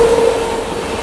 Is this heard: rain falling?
no